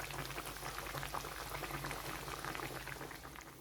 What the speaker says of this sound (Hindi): बाकी का चिकन जो हमारे पास बच गया था वो हम ऑयल में डाल देंगे